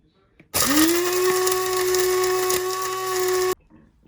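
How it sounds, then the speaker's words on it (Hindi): An electric grinder runs steadily for about three seconds, grinding spices for chicken bread rolls in a home kitchen, with a loud, even motor whine that starts and stops abruptly and has quiet moments on either side. "अब बाकी मसालों को हम पीस लेंगे।"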